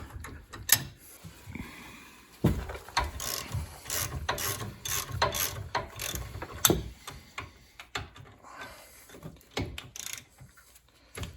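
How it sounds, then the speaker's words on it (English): Ratchet wrench loosening bolts during a junkyard Ram 1500 engine swap into a 2007 Dodge Charger AWD, with bursts of rapid clicking pawl strokes and metallic clanks in a garage, close and fairly loud. "now I should be able to get those with the ratchet, I hope"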